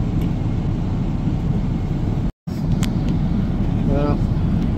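Steady, loud engine roar fills a passenger airplane cabin during a flight from California to Manila, a constant low drone with a brief dropout partway through.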